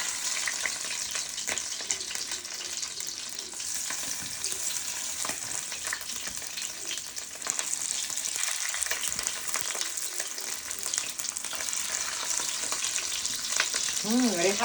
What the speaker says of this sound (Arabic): يسيح الزبدة هنا عشان هنبتدي نشوح الجمبري اللي احنا تعبنا فيه